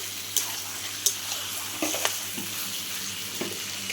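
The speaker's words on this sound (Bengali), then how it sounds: "মাংসটা কষানো হচ্ছে এখন" Mutton releasing its juices is sautéed in a pot over a clay wood stove, a soft bubbling sizzle with a few sharp clinks and scrapes of stirring, fairly quiet and without speech.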